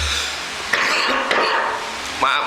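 An elderly man at a surau coughs and clears his throat in several short, harsh bursts close to the microphone, with small clinks between them.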